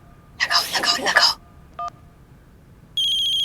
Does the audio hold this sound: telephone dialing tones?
yes